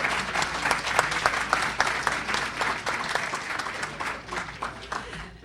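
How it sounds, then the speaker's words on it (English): Sustained audience applause at a candidates forum, many hands clapping steadily throughout, fairly close and dense, slowly tapering toward the end. "Give all these candidates another round of applause."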